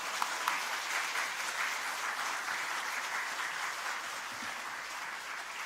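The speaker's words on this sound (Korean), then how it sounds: "우리 나오실 때 큰 박수로 환영합시다." Congregation applause at a church dedication service as the preacher comes forward, a steady wash of many hands clapping at even volume throughout, with no voices over it.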